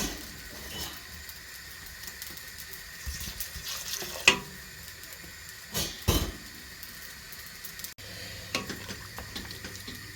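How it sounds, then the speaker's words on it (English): Hot water is poured from a tap into a pot of chicken and vegetables, giving a soft running-water wash with a few clinks of pot and utensils. "I'm going to add hot water."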